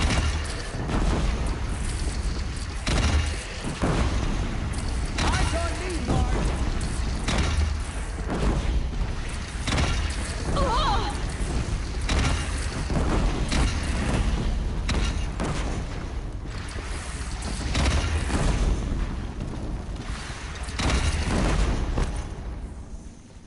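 A bandit cannon in Horizon Zero Dawn fires repeated heavy booms over a long stretch, loud and close, with battle noise and scattered explosions filling the gaps.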